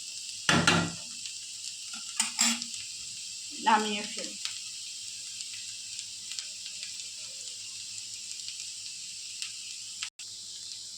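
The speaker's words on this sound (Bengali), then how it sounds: "আলু ভাজাটা প্রায় হয়ে গেছে।" Potatoes frying in oil in a wok for alu bhaja, giving a steady close sizzle with a few sharp stirring scrapes and clatters early on, under brief speech.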